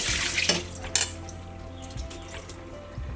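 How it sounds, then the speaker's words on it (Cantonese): Thawed peeled shrimp rinsed under a running kitchen tap, a steady splash of water with a couple of sharp clinks of a bowl or utensil near the start. "解凍之後用清水沖洗"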